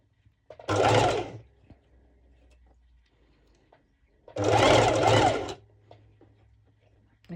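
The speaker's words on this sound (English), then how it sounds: "do one stitch slower, then I continue all the way until the end" Home sewing machine stitching mesh fabric for V-shaped bottoms, two separate runs of rapid mechanical whirring about a second each, close and steady, with quiet pauses between.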